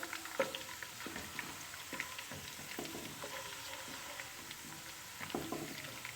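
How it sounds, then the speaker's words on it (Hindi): Onions fry in hot oil until golden for zaban (tongue) curry, with a soft, constant sizzle and occasional clicks and scrapes of stirring close by. No one speaks. "3 प्याज आप इसमें डाल देंगे और गोल्डन होने तक इसको फ्राई करेंगे।"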